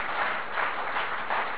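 An audience applauds a dance by young girls at an award event in Dewas, a steady even patter of many hands clapping at moderate distance, somewhat muffled.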